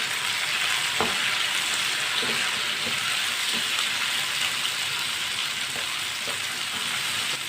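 Tomato and green chilies cooking in a hot pan, a steady loud sizzle like rain on a surface, with a few soft stirring knocks from a spoon scattered through it.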